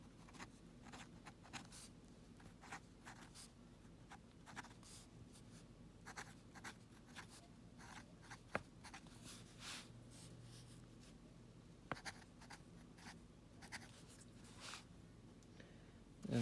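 Chalk or marker scratches and taps across a board as algebra notes on the power of a product property are written out, a string of faint, irregular strokes in a quiet room with no talk.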